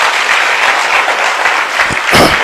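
Applause from a church congregation during a Hindi sermon, a dense steady patter of many hands clapping that swells briefly near the end.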